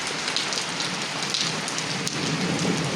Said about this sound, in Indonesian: mari kita bersantai sejenak untuk menikmati hujan di sore hari